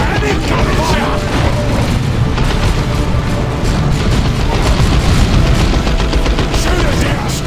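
Loud, continuous gunfire and explosions in the video game Dawn of War II Retribution during an Ork campaign battle, rapid bursts layered with booms and shouted voices throughout.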